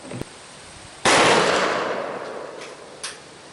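A single sharp shotgun blast from a .410 firing Federal 3-inch number 6 shot outdoors at 15 yards, loud and close, trailing off in a long fading echo with a faint click before it.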